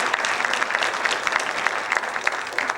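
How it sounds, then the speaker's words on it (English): Dense, steady clapping from a high school concert audience applauding the jazz band at Pacifica High School, close and continuous from start to finish with no talking. "Please give them a huge round of applause for all of their work this evening"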